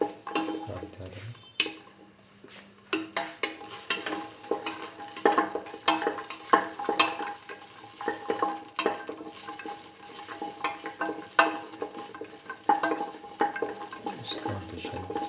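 Shallots with salt fry in a pan, a close, continuous crackling sizzle broken by irregular scraping and stirring strokes.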